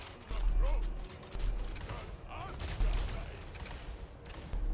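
Infernal Guard units firing in a Warhammer battle game, heard as a dense crackling fusillade of gunfire with mechanical clatter, continuous and fairly loud, with a voice talking over it.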